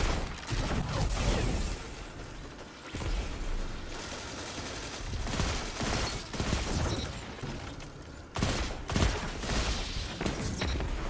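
Rocket launcher blasts and rapid gunfire in a shooter video game, dense bursts of shots and booms crowding together, with a sharp loud impact near the end.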